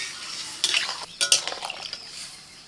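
Slit green chillies and tomato are stirred and fried in a pan with a spoon, giving several sharp scraping and clinking strokes over a soft sizzle, close up with no talking.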